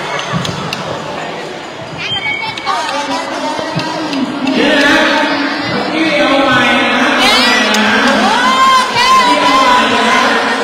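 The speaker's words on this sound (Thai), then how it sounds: "ดูกองเชียร์ดีกว่าคุณผู้ชมนี่ค่ะมีการประกวดเชียร์นะคะ" Children's cheering squads at a school sports day for special-needs kids in Prachuap Khiri Khan, Thailand, chanting and shouting in loud, continuous crowd noise with rising group yells and an announcer's voice over the top.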